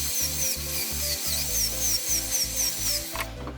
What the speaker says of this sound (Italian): Adesso andiamo a prendere in morsa qua e con il seghetto faremo la cava sia qui che qui.